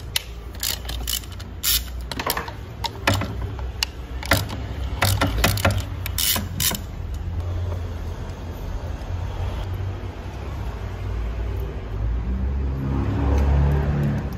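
A ratchet wrench turns E11 Torx bolts on a BMW E90 engine, producing quick clicking pawl bursts up close early on, then quieter workshop mechanical noise.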